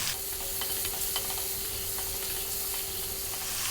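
Two cups of chopped onion sizzle lively in a pan over above-medium heat, a constant close frying hiss with small crackles and occasional stirring scrapes, and no voices.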